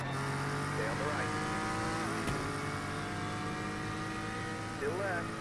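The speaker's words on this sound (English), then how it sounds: "The car sounds so much better when you're outside of it." A race car engine on the Bathurst circuit in the iRacing sim drones loud and steady throughout, with pitch sweeps as it revs and shifts, under speech.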